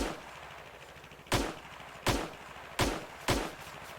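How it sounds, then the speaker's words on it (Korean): Four loud, sharp gunshots in the game Longvinter ring out at uneven intervals over a low background hum, each with a brief booming tail. "방금 들었어요? 총소리?"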